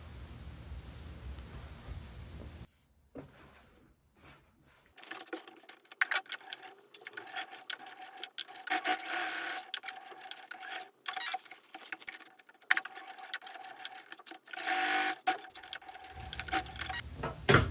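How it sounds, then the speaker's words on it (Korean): A home sewing machine stitches fabric in a straight line along a marked diagonal for the bottom of a shoulder bag. After a quiet start, a fast, even run of light mechanical ticking goes on for about ten seconds at modest volume. "선에 맞추어 쭉 재봉해 줄게요."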